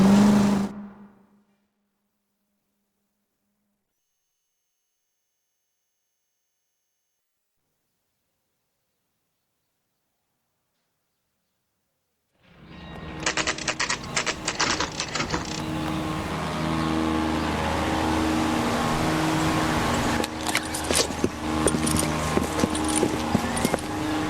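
A car in L.A. Noire drives along at a steady engine hum with road noise, starting after a long silence and continuing loud to the end.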